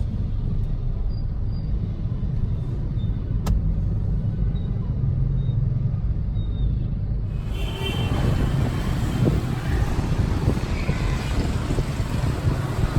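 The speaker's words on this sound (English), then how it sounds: "Midtown traffic." Street traffic in Saigon's District 5 makes a steady low rumble with wind buffeting the microphone, growing louder and busier about halfway through, with no talking.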